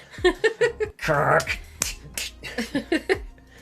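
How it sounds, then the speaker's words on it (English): Sharp finger snaps and hand claps pop out in a quick, uneven rhythm, mixed in with someone talking and vocal sounds nearby. "I was clapping the hands and doing that."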